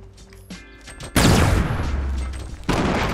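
A grenade explosion in Fortnite battle royale: quiet game sounds, then a sudden loud, close blast with a long crackling decay, followed by a second sharp burst near the end.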